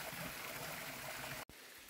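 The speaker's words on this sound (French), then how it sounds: "il y a littéralement des cascades de partout dans ce temple" Water cascades pour continuously at a temple in Hiroshima, a steady broadband rush of falling water, loud and close, with a very brief dropout near the end.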